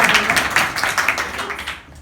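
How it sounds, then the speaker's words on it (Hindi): Schoolchildren at a composite vidyalaya school clap together in a quick, scattered burst of overlapping claps that fades out after about two seconds. "इसके लिए ताली बजाओ।"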